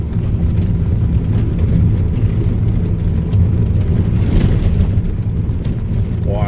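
A Pontiac Fiero driving over a washboard dirt road on Virginia Canyon Road, a steady rumbling engine and tire drone with continuous low vibration, loud and close throughout.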